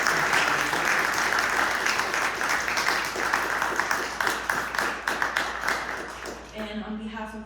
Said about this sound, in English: let's give Monsieur de Tonnac one more round of applause.